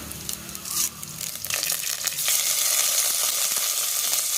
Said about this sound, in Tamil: கருவேப்பிலை சேர்க்கும்போது எண்ணெயில் அந்த பச்சையாக போடும்போது தெரிக்கி பாருங்கள்